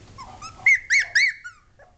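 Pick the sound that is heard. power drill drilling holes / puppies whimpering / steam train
puppies whimpering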